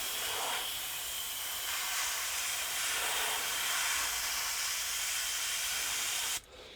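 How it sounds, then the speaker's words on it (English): An airbrush sprays paint onto model railroad track, a close, steady airy hiss that holds evenly for several seconds before cutting off near the end. "already you can see the advantage of an airbrush, right? When it comes to painting track."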